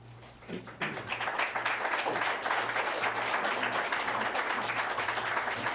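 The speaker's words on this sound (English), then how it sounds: "I wasn't expecting clapping, but thank you." Sustained audience applause fills a town Board of Selectmen meeting, starting after a brief pause and continuing steadily as a dense wash of clapping.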